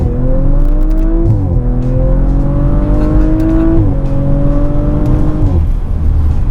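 An Audi RS5 accelerates hard, its loud engine note climbing steadily through the gears with short dips at each upshift, continuous and close throughout.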